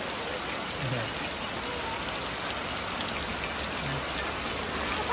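The season's first rain in a Botad village falls in a steady, close hiss of drops pattering on surfaces, even and unbroken from start to finish.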